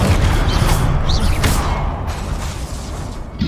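Confringo blasting spell cast in Hogwarts Legacy: a loud burst with whooshing and crackling impacts, several short blasts over a dense, noisy background.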